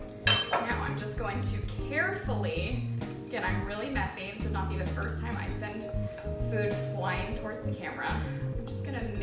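Bacon cheese dip ingredients being mixed in a bowl, with steady clinks and scrapes of a utensil against the dish, sounding close, under a voice and background music throughout.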